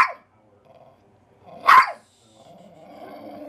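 Big dogs bark in two short bursts, a quick yelp at the start and a louder, sharper bark near the middle, followed by a faint low growling rumble.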